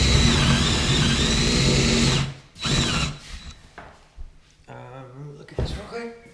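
A power drill whirs loudly for about two seconds drilling a hole while installing a sliding barn door, then stops, followed by scattered clatter and brief bursts of noise.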